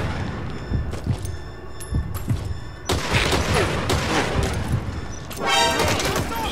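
Sustained gunfire fills a Metal Gear Solid 5 firefight, with dense volleys of shots and thumping impacts layered over game noise, intensifying midway and staying loud throughout.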